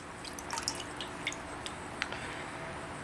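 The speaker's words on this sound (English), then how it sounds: "I'm going to dip it in some water." Water drips off a freshly sliced piece of coral after it is dipped in water, a few small, faint patters and droplets scattered over a steady background hiss.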